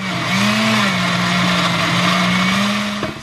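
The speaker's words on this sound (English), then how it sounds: "So I'm going to blend all the tomatoes, one of these chiles I'm going to blend, and then also these two garlics, and the rest of the tomatoes." A kitchen blender whirs loudly and steadily as it purees tomatoes, chiles and garlic, its motor pitch shifting slightly as the mix churns, then winding down at the end.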